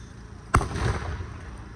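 A single sharp report from musket fire at a reenactment of the Battle of Great Bridge cracks out at moderate distance, then rolls away in a brief, rumbling decay.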